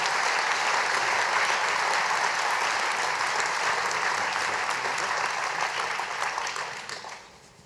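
An audience at a New Year's wishes ceremony in Céré claps in a loud, dense, sustained burst of applause that fades out near the end.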